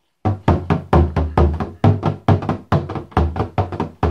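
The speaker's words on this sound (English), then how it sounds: "create that thonky, kind of funky, thonky hit" A loose, thonky drum hit played as a polka-style pattern, about a dozen close, punchy strikes in a steady bouncing rhythm with no talking.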